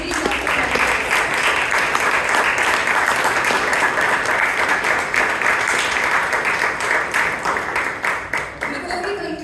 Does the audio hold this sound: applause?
yes